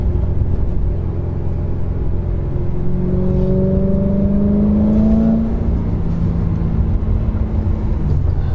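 Interior drive in a BMW E92 M3 with a resonated catless exhaust, a loud, steady low engine rumble with a rising pitch sweep as the car accelerates mid-clip, no talking.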